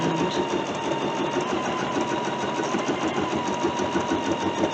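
A computerized embroidery machine stitches edge-to-edge quilting through its embroidery module, giving a steady, continuous mechanical whir with a fast needle rhythm, close and even throughout with no talking.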